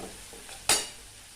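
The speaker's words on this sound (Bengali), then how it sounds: "এখন কিছুক্ষণ সময় নিয়ে মশলাটাকে কষিয়ে নেব" Spice paste for a Bengali fish curry fries in a pan with a little hot water, a low steady sizzle broken by one sharp hiss and scrape of stirring, close up.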